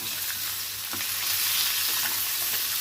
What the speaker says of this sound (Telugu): వేసుకొని రెండింటిని కొంచెం వేయించుకోవాలి